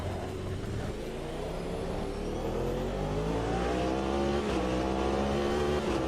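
Hypercar race car engines in the sim racing game Automobilista 2, a continuous loud engine drone with rising, shifting revs throughout, no talk over it.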